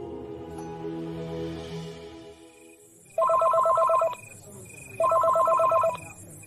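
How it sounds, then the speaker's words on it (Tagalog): A cellphone rings with two loud bursts of a bright electronic ringtone, each about a second long, separated by a short pause. Softer voices and tones come first. "Saktong tumunog naman ang cellphone ko."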